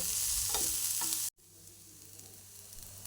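Onions frying in oil in a pan for dosa batter, a loud bright hiss with a few stirring scrapes, then a brief cut after which the sizzle returns softer and steadier, close up with no voices.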